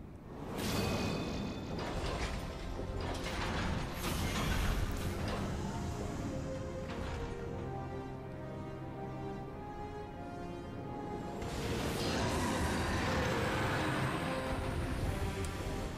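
Elevator machinery moves in Final Fantasy XIV, a steady low mechanical rumble and hum running throughout with a faint creaking, swelling slightly near the end, heard alone.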